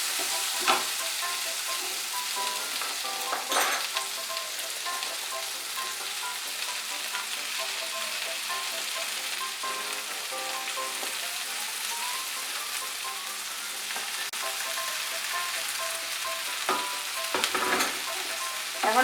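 Onion flower stalks fry in a pan with a continuous close sizzle and crackle, interrupted now and then by the scrape and clatter of stirring, no voices over it.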